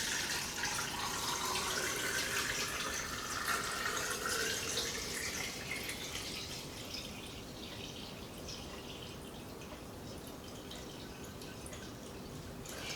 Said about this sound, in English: we just pour it over the eggs